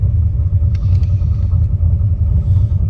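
A Ford Mustang with swapped heads and cam rumbles loud and close, its lopey, pulsing idle rising slightly as the throttle is blipped.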